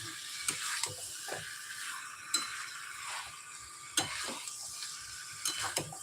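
Potato curry (aloo dum) with raw chickpeas is stir-fried in a pan, giving a faint, steady sizzle punctuated by several sharp clicks and scrapes of a utensil against the pan at irregular intervals.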